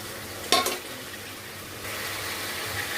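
Fish being sautéed in spice paste for a Bengali muri ghonto, with a brief clatter of a stirring spoon at the start, then a steady soft sizzle from the pan that continues on its own.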